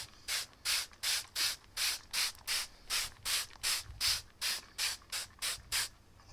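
Water is sprayed onto a hat to saturate and stiffen it: a steady series of short hissing spritzes from a hand pump bottle, about two per second, close and alone without talk.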